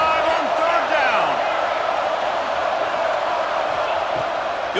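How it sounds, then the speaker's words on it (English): Ohio State Buckeye football crowd roaring in the stadium on a third down against Kent State, a sustained, loud wash of cheering with voices rising through it. "The Buckeye crowd alive on 3rd down."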